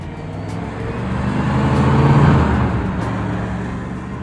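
A 1961 Chevrolet Corvette's engine hums past at moderate volume, growing louder toward the middle and then easing off, a smooth low drone with no talking.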